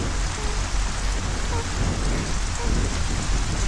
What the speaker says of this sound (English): It's heavy rain, Mom.